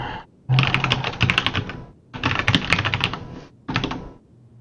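Loud, fast typing on a computer keyboard during a podcast recording, heard as dense bursts of rapid key clatter in three runs separated by short pauses, with no talking.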